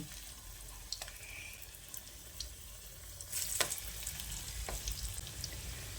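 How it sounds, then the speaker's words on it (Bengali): Malabar spinach fritters fry in hot oil in a frying pan, giving a steady close sizzle with a few sharper crackles and bursts that swell midway, and no voices. "তারপর তেলের মধ্যে ছেড়ে দিচ্ছি"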